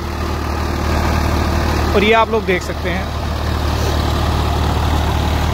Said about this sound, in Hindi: ट्रैक्टर के ऊपर कोई भी किसी तरीके का ना धुआं है ना कोई लोड है, बिल्कुल स्मूथ चल रहा है ट्रैक्टर